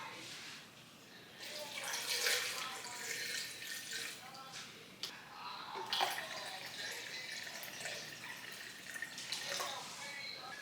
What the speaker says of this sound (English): So I'm gonna put some water in here and put it in the blender.